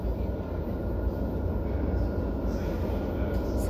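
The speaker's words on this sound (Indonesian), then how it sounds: "Sekarang kita lagi nunggu kereta." A train at a station, heard as a steady, loud, close rumble with a broad roar that holds without break throughout.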